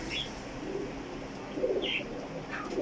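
A Lakha pigeon coos softly at close range, a few low murmuring calls spread over a couple of seconds, with faint chirps from other birds behind it.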